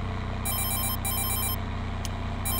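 A phone rings in the video game Farming Simulator 22: two bursts of an electronic trill, then a brief blip and a third ring starting, over a steady low engine rumble.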